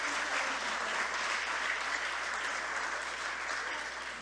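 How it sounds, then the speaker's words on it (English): An audience at a PNM political party launch meeting in Belmont claps steadily for several seconds, a dense, even wash of applause from a sizable crowd with no talking over it. "Give yourselves a round of applause."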